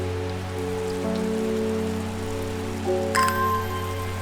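Rain falls steadily on a shop in the video game Strange Horticulture, a constant soft hiss of drops under quiet sustained musical tones, with no voices.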